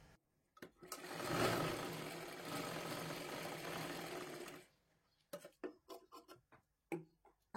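Sewing machine stitching a princess blouse, a single close, continuous run of about four seconds that stops abruptly, followed by a few light clicks and handling sounds.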